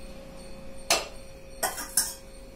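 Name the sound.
transferring rasam into another vessel, pots clinking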